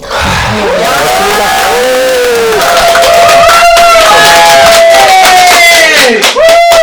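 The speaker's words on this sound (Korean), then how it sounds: "다시 한번 큰 박수 부탁드립니다" Large audience at a climate and queer justice talk event in Daejeon, loud sustained cheering and whooping crowd noise with voices shouting over steady applause-like roar, close and continuous.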